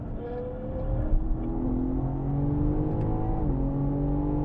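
BMW M car engine on a track day at Sonoma Raceway, a loud, close, steady droning roar that dips slightly as the throttle eases and then rises again, with no talking.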